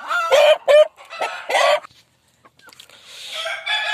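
Desi hens on a small village poultry farm with drinkers and feeders, clucking in several close, loud bursts, followed by a fainter stretch of softer clucks and rustling.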